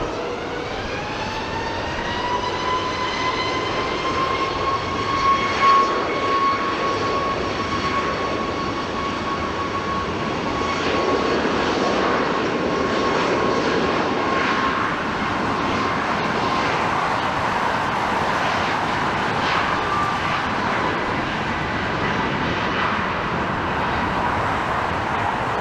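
A fixed-wing airliner taking off at Los Angeles International Airport gives a loud, sustained jet-engine roar with a steady whining tone throughout, heard alone with no talk.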